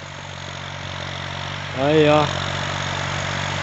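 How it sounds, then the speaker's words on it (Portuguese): Valtra A 950R tractor from 2021 pulling an intermediate 14-disc harrow through field soil, engine droning steadily with a brief rise in pitch, while someone speaks briefly. "Lá vem o trator."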